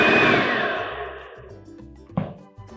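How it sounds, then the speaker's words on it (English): An electric mixer whirs loudly while beating icing sugar for cupcake frosting, its pitch winding down and stopping, followed by a couple of brief thuds and a short restart. "then I'll mix it in with the mixer"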